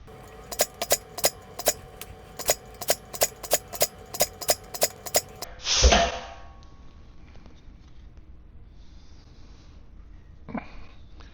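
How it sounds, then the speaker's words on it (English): Aircraft sheet metal gets dimpled for number 4 rivets with a regular series of about a dozen sharp metallic clacks, followed by one heavier thud, then quiet handling noise and a single later knock. "now I have dimpled all the number 4 rivet dimples as well"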